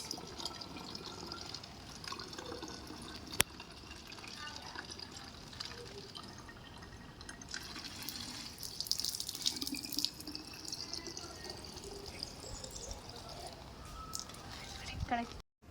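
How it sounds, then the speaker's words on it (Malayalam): Water trickles and gurgles steadily into a bottle for a long stretch, faint and close, with quiet handling noises around it; the water is being prepared for birds. "നമ്മൾ കുപ്പിയിൽ വെള്ളമാക്കി എടുക്കുകയാണ്"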